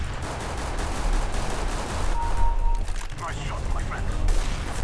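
Gunfire from an AWP sniper rifle in a Counter-Strike style deathmatch game, heard as steady rumbling shots and bursts over a noisy game background.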